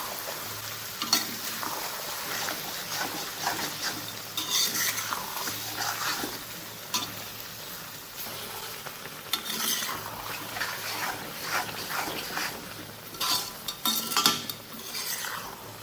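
Chunks of Shinwari-style dumba karahi meat, salted, fried and stirred in a pan: a steady sizzle runs throughout, broken by frequent scraping strokes and occasional metallic clinks of the spoon against the pan.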